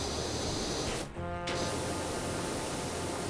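Steady, loud hiss of a pressure washer spraying in the cleaning game PowerWash Simulator, continuous and close, with a brief break about a third of the way through before the spray resumes.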